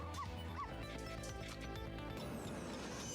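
A dog yips twice in quick succession, near and clear, then whimpers softly over a busy, steady background mix with faint talk.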